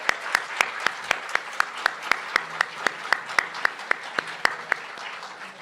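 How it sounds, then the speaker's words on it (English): Audience applause for admitted students at a UC Irvine law school moot court competition final, a fairly quiet, sparse patter of clapping with one pair of hands striking sharply and evenly in a steady rhythm above softer claps. "Could we have a round of applause for the admitted students in the audience?"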